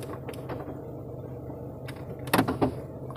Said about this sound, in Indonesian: ini buat kunci pintu